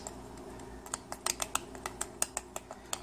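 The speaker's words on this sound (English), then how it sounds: "The buttons are very responsive, you can hear it clicking" A quick series of small plastic clicks from the buttons on Soundbot SB221 wireless headphones, about a dozen in irregular succession, crisp and close against a quiet background.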